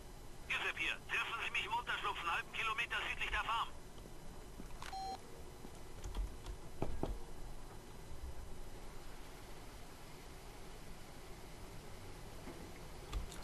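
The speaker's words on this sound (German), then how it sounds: "Und da klingt auch gleich wieder das Handy" A mobile phone rings in the Far Cry 2 video game, a rapid electronic trilling ring lasting about three seconds, then a few faint beeps and clicks over quiet in-game ambience.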